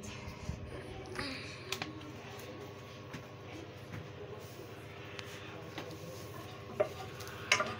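Vermicelli frying in a pan of ghee and a little oil while being stirred, a soft steady sizzle with scattered scraping and light clicks of the utensil, fairly quiet and continuous.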